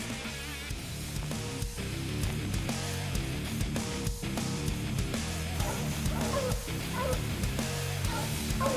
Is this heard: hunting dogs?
yes